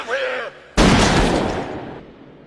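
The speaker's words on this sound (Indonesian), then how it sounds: "Humbert berhasil membunuh Quilty dengan menembakkan beberapa peluru" A gunshot in a scene from the 1997 film Lolita, a sudden loud blast that rings out and decays over about a second, with voices and a tonal sound just before it.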